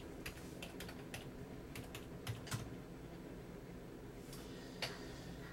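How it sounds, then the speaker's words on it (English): Keys click faintly on a computer keyboard in a sparse series of light taps while an invoice is filled in, set against a steady room hum. "So we're going to type in registration."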